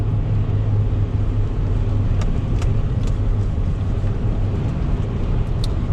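A car cruising on a highway at about 70 miles per hour with cruise control set during an ice storm, a loud steady rumble of engine and road noise with a few faint ticks on top and no voices.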